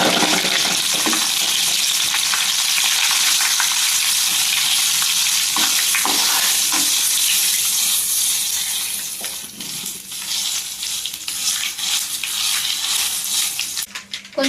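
Dried red chillies and curry leaves, with a pinch of asafoetida, crackle and sizzle steadily in hot tempering oil for gongura pickle, a dense close hiss that thins out toward the end.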